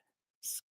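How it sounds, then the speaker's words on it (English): A pen makes one short scratching stroke on paper, close and crisp, lasting a fraction of a second after near silence, during a sketch for a coloring book. "I should probably write what I'm trying to draw here."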